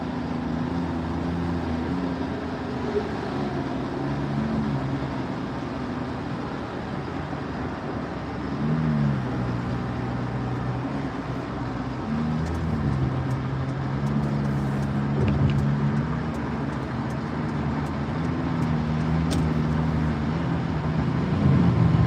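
Road traffic heard from inside a moving car at 5 a.m. in the dark, a steady rumble of engine and road noise with sustained low tones rising and falling, close and continuous with no talking.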